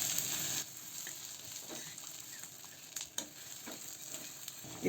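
Stuffed eggs fry with masala paste on a tawa, giving a continuous close sizzle with occasional scraping and clinking stirs and a louder clatter near the end, no voices.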